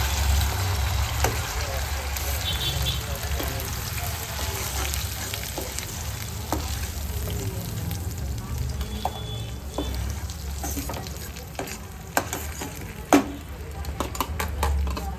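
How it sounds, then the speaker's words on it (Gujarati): Paneer bhurji gravy sizzles and bubbles in a pan, a continuous close frying hiss broken by clicks and scrapes of the spoon as it is stirred, with a louder knock near the end. "હવે આપણે આમાં ગ્રેવી નાખીએ"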